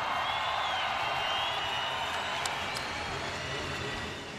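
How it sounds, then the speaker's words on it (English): Steady applause from an audience, a dense wash of clapping that holds throughout and eases slightly at the end. "One more round of applause, you guys"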